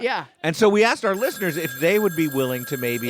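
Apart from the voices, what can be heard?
telephone ringing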